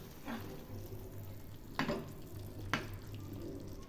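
Simmering palak paneer gravy with kasuri methi being stirred in a pan, a soft continuous bubbling sizzle broken by two sharp spoon scrapes, no voices.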